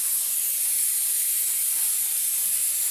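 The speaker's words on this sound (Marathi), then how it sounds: "मस्त छान तडका बसतो" Cumin seeds hit hot oil for tempering, producing a constant bright, hissing sizzle that stays even and close throughout.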